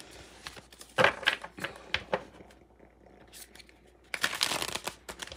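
A deck of oracle cards being shuffled by hand during a tarot reading, with bursts of riffling and flicking cards in quick irregular clusters, loud and close, with quieter gaps between bursts.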